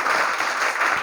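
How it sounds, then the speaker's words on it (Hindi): Brief burst of audience clapping from students at a study competition, dense and steady over the whole second. "सबसे पहले तो आप सब लोग अपने लिए ताली बजाओ"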